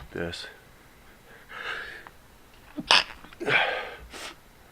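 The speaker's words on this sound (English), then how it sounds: "I seem to be wanting to sneeze today a little bit." A single sharp sneeze bursts out near the middle, close and loud, framed by softer breathy sounds and a gasp-like intake before and after it.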